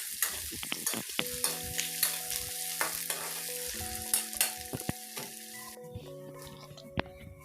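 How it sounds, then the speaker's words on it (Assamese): Onions fry in a pan for a paneer curry, sizzling softly and crackling while a spoon scrapes and stirs in repeated strokes, with faint background music tones. "এতিয়া পিঁয়াজখিনি ভাজি ল'ম"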